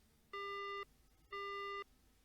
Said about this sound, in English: The call disconnects.